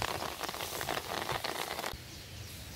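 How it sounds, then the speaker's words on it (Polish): Light rain pattering steadily on a lakeside fishing spot during a feeder fishing session, a soft continuous hiss of drops close by that thins slightly toward the end, with no talk. "Trochę pada, chmurka przyszła."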